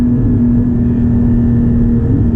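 A Porsche 718 GT4 with a manual gearbox, its engine held high in second gear through a turn, gives a loud, steady, close-up drone with no pauses and no talking.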